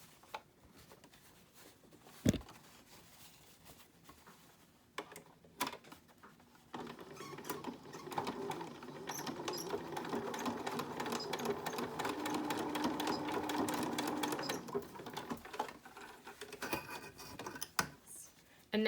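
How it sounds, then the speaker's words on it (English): A sewing machine stitches down the edge of a fabric face mask with a wire channel inside. A few clicks and handling knocks come first, then a long steady whirring run of stitching, followed by more scattered clicks. "we want to stitch down this edge."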